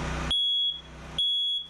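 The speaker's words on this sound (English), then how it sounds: "You guys know what a smoke detector does?" A smoke alarm sounds during a firefighter training session, with two long, loud, piercing electronic tones at a steady pitch and a short gap between them, heard close over a low engine rumble.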